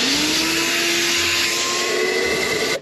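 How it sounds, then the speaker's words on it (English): A vacuum sucks rat droppings and debris out of an attic pipe opening, with a loud steady close whine that holds for the whole stretch and then cuts off at the end. "Let's take a vacuum and suck all that out before we make the connection."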